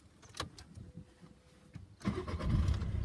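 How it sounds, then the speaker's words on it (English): A car engine cranks and catches during a driving lesson, with quiet clicks and handling sounds first, then a sudden surge into a steady, louder running rumble close by. "We'll start the car."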